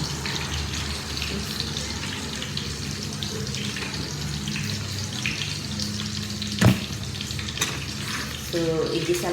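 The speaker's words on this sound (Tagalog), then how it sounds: "igisa natin yung bawang, yung garlic and onions" Garlic and onions sautéing in a pan make a constant, close sizzle, with occasional stirring clatter and one sharp knock partway through, heard alone with no talk.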